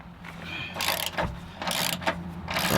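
Bursts of metallic ratchet clicking and whirring as nuts are removed from Jeep Wrangler JL rock slider hardware, several quick runs of ratcheting separated by brief pauses, close and fairly loud.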